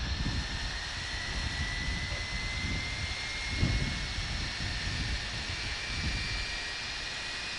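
An MD-80 jet engine spooling up in a flight simulator with an add-on sound pack: a steady, faint, broadband whine and rush with a rising tone, heard inside the cockpit with no talk.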